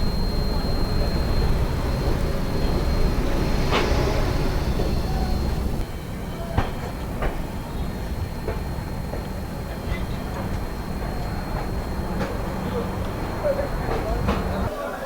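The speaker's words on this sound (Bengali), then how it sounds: "সময়বেলা 12:16, আমাদের ট্রেন কামাখ্যা থেকে ছাড়লো।" The Saraighat Express on the Howrah–Guwahati line runs on after leaving Kamakhya, heard from inside as a steady low rumble with scattered rail clicks and knocks, easing slightly partway through.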